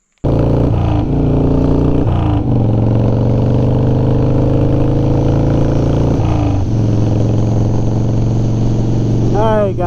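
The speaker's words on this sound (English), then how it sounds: "let's hop on the bike and enjoy the day on a beautiful 1992 FXR" A 1992 Harley-Davidson FXR motorcycle engine runs steadily and close while riding, with rising and falling pitch as it shifts through gears and accelerates, continuous throughout with brief dips between shifts.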